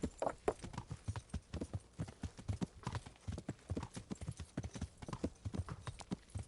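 Horse hooves clip-clop in a steady walking rhythm on hard ground in Kingdom Come: Deliverance, close and continuous throughout.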